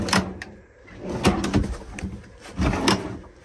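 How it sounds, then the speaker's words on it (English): A counter extension slides out of a drawer in a 2004 Chinook Destiny Class B+ motorhome with a few close scraping and knocking sounds, sharp clatters in quick succession, without speech. "Got a counter extension here you can pull out of a drawer."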